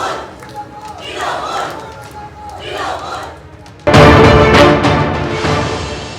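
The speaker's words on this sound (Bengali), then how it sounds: "সেখান থেকে অধিনায়ক অভিষেক স্লোগান শোনা গেল" A crowd of Trinamool supporters chants the slogan 'Adhinayak Abhishek' in loud massed unison that breaks in suddenly after a calmer stretch with talk, then carries on strong with rhythmic shouted bursts.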